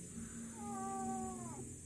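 A single drawn-out cat yowl, wavering and rising then falling, heard outdoors over a steady background hum.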